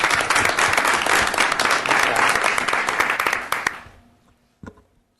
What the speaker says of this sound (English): You're allowed to clap for her.